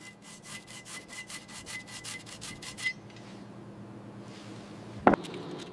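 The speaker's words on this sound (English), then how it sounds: "Then I brushed off the loose rust." A brush scrubs loose rust off a metal wrench in about a dozen quick, rhythmic rasping strokes, then goes quiet before a single sharp knock.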